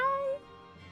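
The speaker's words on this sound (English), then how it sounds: "I hear a little baby meowing." A small kitten gives one short, high meow close by, a rising then sustained cry lasting under half a second, followed by quiet background hum.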